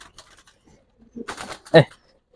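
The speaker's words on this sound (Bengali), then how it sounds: "অনেক সুন্দর একটা কবুতর" A pigeon coos in short, throaty bursts, one louder near the end, with faint rustling and scattered quiet sounds around it.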